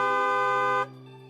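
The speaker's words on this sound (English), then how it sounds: "Thank you for the honk." A car horn blares loud and close in one sustained tone for most of a second, then cuts off abruptly into a quieter residual hum.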